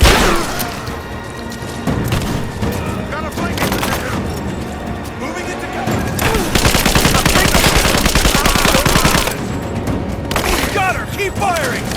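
Heavy gunfire in the video game Rise of the Tomb Raider, with dense machine-gun bursts and scattered shots crackling close and loud almost throughout, mixed with shouted voices.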